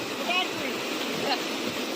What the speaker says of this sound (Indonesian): Oh, air terjun Lara.